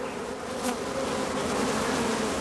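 Honey bees hum in a dense, continuous close buzz around traditional straw bee skeps in West Cork, Ireland, steady and loud throughout with no voices.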